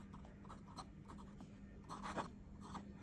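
An extra fine nib on a Leonardo Corsani fountain pen scratches faintly across fine paper in short, irregular strokes, with a soft steady hiss underneath and a few brief louder scrapes near the end.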